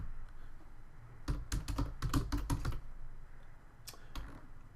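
A URL being typed on a computer keyboard: a quick run of about a dozen crisp key clicks, then a short pause and a few more keystrokes, close and clear, with no talking.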